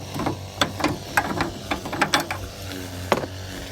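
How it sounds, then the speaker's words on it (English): A ratchet wrench tightens the replacement bolts on a truck tailgate hinge, clicking in quick, close bursts over a steady low hum. "Put the bolts back in."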